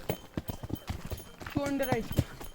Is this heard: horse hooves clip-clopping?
yes